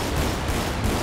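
Rapid 12-gauge shotgun blasts in GTA 5, a dense continuous barrage of gunfire with no clear gaps between shots, loud and close throughout.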